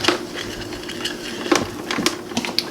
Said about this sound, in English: My mixer doesn't have a slow speed.